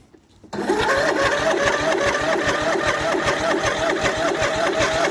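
An MTD Yardman lawn tractor engine catches abruptly after a brief quiet moment, then runs loud and close with a rapid, even chugging beat.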